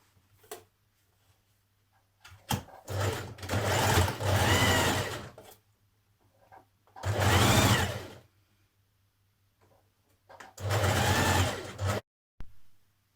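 A sewing machine runs in three sustained bursts while neatening a seam on a woven top, each run a fast, even mechanical whir, with quiet pauses and small clicks between them.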